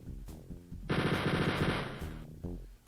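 Rapid enemy machine-gun fire in the video game Wolfenstein 3D, a loud continuous burst of about a second, with shorter game sound effects before and after.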